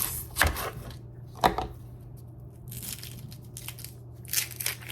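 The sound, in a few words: chopping onion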